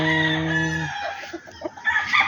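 Fighting rooster stags at a game farm crow loudly and close, one long harmonic crow in the first second followed by scattered clucks and other fowl calls.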